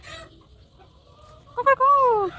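A rooster at home, quiet for a moment before letting out a few short clucks and then a loud drawn-out call, close by, with faint voices at the start.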